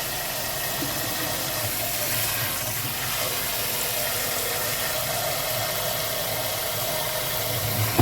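Cold tap water runs steadily while venison stew is being prepared, a dense, even rush of noise that stays loud and unbroken throughout, with no talking over it.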